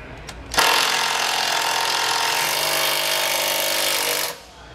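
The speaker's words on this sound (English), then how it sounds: "So now we're just taking our self-tapping screw, we're using a 14 millimeter socket," A power tool drives a self-tapping screw through a 14 mm socket during suspension installation on a 2020 Grand Design Momentum fifth-wheel trailer, giving one steady loud buzzing whir of about four seconds that starts and stops abruptly.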